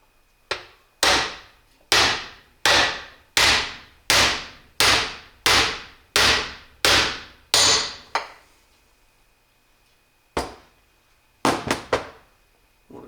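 A part being tapped into place during a 671 blower rebuild: about ten sharp, evenly spaced hammer knocks with ringing tails, a pause, then a few more quick taps, close and loud with nothing else over them.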